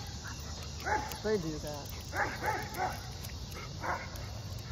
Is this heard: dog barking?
yes